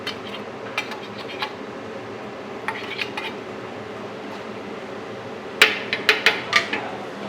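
Tofu and onion oil go into a metal cooking pan, giving scattered clinks and scrapes of utensils on the pan, then a louder burst of sharp metallic taps near the end.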